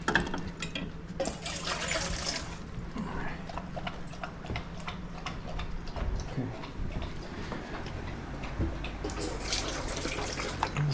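Water running into a bowl for young Akita dogs, a steady splashing pour near the microphone with some clinks, and a person speaking briefly.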